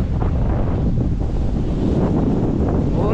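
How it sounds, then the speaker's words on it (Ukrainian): Strong warm wind buffets the microphone in a steady, loud low roar with no break, heard outdoors in a field during blueberry picking. "Капець, який вітрюган."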